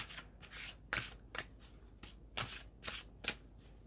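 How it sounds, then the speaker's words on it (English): Tarot cards riffled and flicked in a close, quiet run of crisp shuffling bursts, several sharp slaps and card-edge rattles spaced unevenly, with no talking. "Let's just get the card out for your soul spirit."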